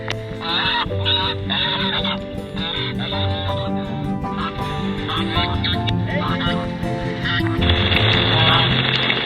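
Geese honk loudly and repeatedly in a dense, overlapping chorus, close by, with a person talking intermittently over the flock.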